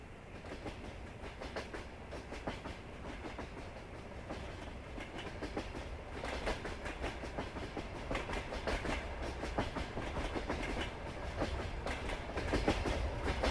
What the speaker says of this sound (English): Oh, that train sounds so cool.